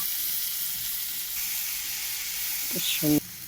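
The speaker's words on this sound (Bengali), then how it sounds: "এটা হলো সবজি আলু চিড়ে পকোড়া" Vegetable, potato and flattened-rice pakoras frying in hot oil give a steady close hiss and sizzle, with a brief clink of a utensil near the end and a voice speaking at the very end.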